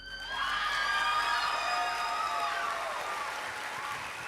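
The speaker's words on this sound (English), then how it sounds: "This is a wild crowd for you, Julie. Give it up for Julie" A large crowd at a Rose Queen announcement and coronation event applauds and cheers for a Rose Princess. A sustained roar of clapping and high whoops rises quickly and then slowly fades.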